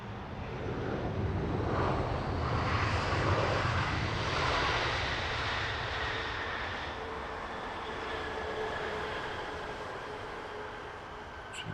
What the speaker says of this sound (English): Capital Airlines A330-300 in from Qingdao